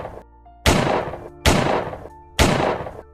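Three loud, sharp gunshots ring out at regular intervals about a second apart, each with a trailing echo, against a faint tonal background.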